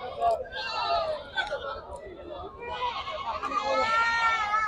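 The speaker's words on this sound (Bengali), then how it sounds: "দেখেন এত পরিমাণ ছাগল, যা এক ঘন্টার মধ্যে ঘুরে দেখানি খুব কঠিন হয়ে যায়।" Goats bleat repeatedly at a busy goat market, several animals calling near and far amid a steady background of crowd chatter and murmuring voices.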